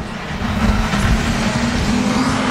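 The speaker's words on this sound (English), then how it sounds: "Green lights are on and we're underway." Street stock race cars pulling away at the start of a heat at Rockhampton Speedway, with a loud, steady roar of several engines droning together at close range.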